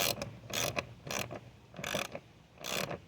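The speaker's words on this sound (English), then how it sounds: "And finally, we tighten up this hose clamp." A hand ratchet turns in four or five steady bursts of close, crisp clicking while tightening a hose clamp on the air filter housing of a 2020 Jeep Gladiator, with no voices.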